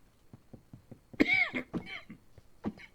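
One person coughs sharply near the microphone, a single harsh burst with a throat-clearing tail, amid faint quiet clicks and a short later rasp.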